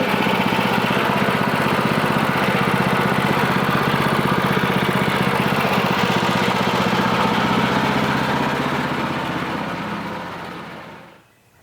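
A sawmill with a freshly sharpened blade cuts through a log, a steady loud engine-driven whine and rumble that runs evenly before fading and stopping abruptly near the end.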